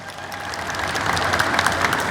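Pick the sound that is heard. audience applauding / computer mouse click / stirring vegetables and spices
audience applauding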